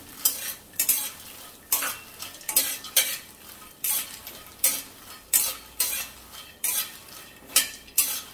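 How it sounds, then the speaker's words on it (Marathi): Fox nuts (makhana) are roasted in ghee in a pan, with a steady rhythm of scraping stirs, about twelve regular strokes against the pan over a soft sizzle. "आता मी मखाने थोडे तुपावर परतून घेते।"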